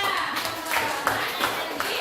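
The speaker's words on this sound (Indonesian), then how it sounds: "Tepuk tangan untuk Senda." Classroom children clap for a classmate named Senda during a lesson on wasting electrical energy, producing a brief burst of loose, uneven clapping with a few sharper individual claps standing out and voices mixed in.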